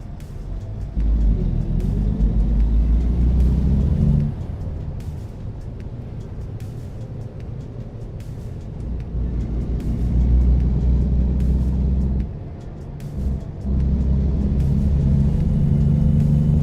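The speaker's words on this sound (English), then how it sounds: "Yes, Calvin, I'm driving a truck." A 2014 Volvo VNL truck engine in American Truck Simulator gives a loud, deep rumble that rises and falls with throttle, easing off around the middle and dipping briefly near the end, with no talking.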